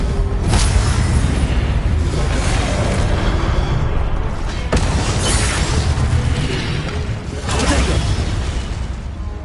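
Fiery blasts from the Confringo spell in the Hogwarts Legacy video game, a dense, loud, sustained roar of booming explosions with sharp bursts near 0.5, 4.7 and 7.5 seconds.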